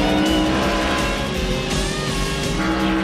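Stock cars racing at Daytona roar continuously at full throttle, a dense, loud engine drone with tire squeal threaded through it, and no voices.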